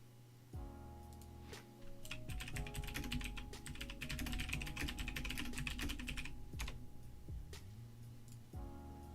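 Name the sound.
computer keyboard typing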